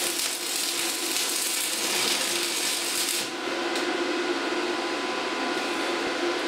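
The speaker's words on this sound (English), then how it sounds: "we're going to put a tack weld on the back side" An angle bracket gets a tack weld on its back side, a harsh, even crackling buzz that runs for about three seconds, then cuts off and leaves a quieter hum.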